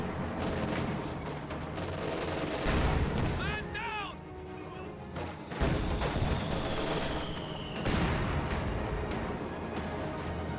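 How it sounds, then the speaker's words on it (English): Bursts of gunfire and artillery booms from units in a WWII strategy video game featuring Panzer IV tanks, repeated shots and rumbling blasts spread across the scene beneath a game voice and commentary. "Why are they shooting at us?"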